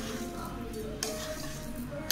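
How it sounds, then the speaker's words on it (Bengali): A utensil stirs sugar melting in a pan, giving a soft, steady scraping and faint sizzle with two sharper scrapes, one midway and one at the very end. "এবার আমি এটাকে ভালো করে একটু নেড়ে নেব"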